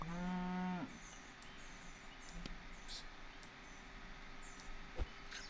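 Cartoonish cow moo from the Super Auto Pets video game, a single loud low moo at the start that falls away, followed by faint game clicks and soft effects.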